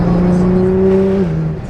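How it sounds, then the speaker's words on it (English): A car engine drones steadily while driving, close and fairly loud, holding a smooth tone that drops in pitch near the end as the revs ease off, with no clear speech. "I swear the car sounds nicer too."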